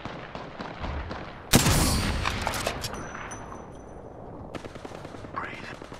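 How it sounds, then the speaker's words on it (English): Rapid gunfire from Apex Legends, a loud burst of automatic shots starting abruptly and tailing off, followed by scattered softer shots and game effects in a busy mix. "Getting shot at."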